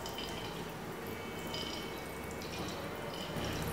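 A thin stream of tap water, bent aside by a charged rod, runs as a steady, soft hiss with faint trickling, continuous and uninterrupted throughout.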